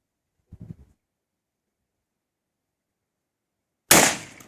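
A rifle fires one sharp, loud shot that rings out and fades. A brief voice is heard a few seconds before it.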